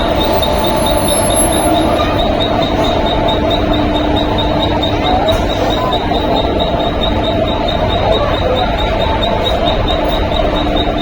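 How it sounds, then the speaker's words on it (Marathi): A train stands at Karjat railway station, its loud continuous rumble and hum filling the platform for the whole stretch, with faint high squeals and no speech. "ट्रेन आलेली आहे, आता आपण कर्जत स्टेशनला आहोत"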